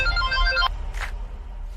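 A phone ringtone plays a bright, close electronic melody for under a second, then cuts off abruptly, followed by a brief soft rustle.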